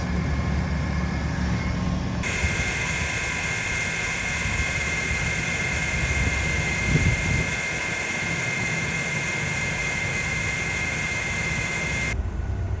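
A car engine warming up in Death Valley drones steadily throughout, with a loud high-pitched whine that switches on and later cuts off, close by with no talking.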